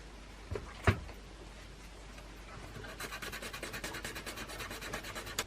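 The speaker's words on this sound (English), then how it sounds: "I'm just going to use it to rough up the surface here" Steady rhythmic rasping of 240 grit sandpaper roughing up a surface, close up, with a single sharp knock early on before the strokes settle into a quick back-and-forth.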